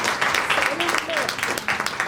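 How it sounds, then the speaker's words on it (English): Scattered applause from an audience at a club event at ISBR College in Electronic City, moderate claps mixing with voices talking over them. "he deserves a round of applause"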